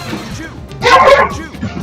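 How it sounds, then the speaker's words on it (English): Dogs Balto and Juno barking while they fight, a short burst of yips and barks in the middle of the clip, partly mixed with game music and talk. "There's barking. Balto and Juno are fighting."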